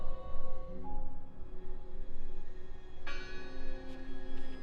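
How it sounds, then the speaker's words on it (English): Church bell ringing inside the video game Draugen, a sustained tolling with long ringing overtones and a fresh strike near the end, over a steady ambient bed with no voices. "I heard the bell."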